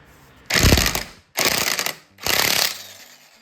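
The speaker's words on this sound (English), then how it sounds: "I just have to take the hammer gun and put her home." Three loud bursts of an impact wrench tightening a nut on a Honda dirt bike, each about half a second to a second long, separated by short pauses, close up.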